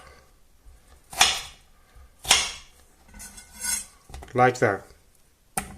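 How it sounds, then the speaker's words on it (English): A knife cubes food on a cutting board, giving three sharp, separate chops spaced a second or more apart, close and crisp, with a few words spoken briefly between them. "now I'll cube these up."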